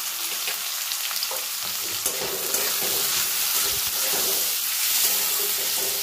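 Chopped tomato going into a hot pan of frying koi fish and cabbage, with a steady bright sizzle and crackle, stirring scrapes and bursts of spitting oil up close.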